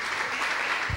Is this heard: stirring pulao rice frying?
no